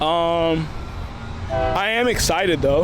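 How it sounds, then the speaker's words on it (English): Passing train sounding its horn in long blaring blasts, the first fading out and a second coming in loud and wavering, with a person talking over it. "Sorry about that train."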